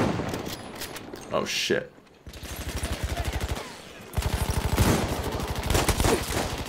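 Repeated bursts of rapid automatic fire from a player's weapon in a video game, loud and close, starting and stopping in several strings amid other battle noise, with a brief spoken exclamation.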